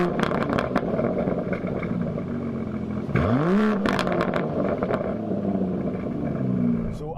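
An Aston Martin DBS Superleggera Tag Heuer Edition drives on the road with a steady engine drone. Midway it revs up sharply, then settles back to cruising, with no voices.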